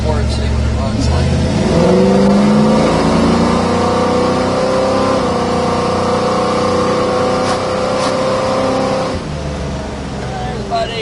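A 1968 Chevrolet Camaro accelerates, its engine and exhaust rising steadily in pitch through a strong pull before easing off, heard loud from inside the car with someone talking over it.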